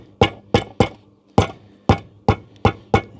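A patio slab being tapped down level takes a run of about nine sharp, solid knocks at an uneven rhythm, close by with short gaps between strikes.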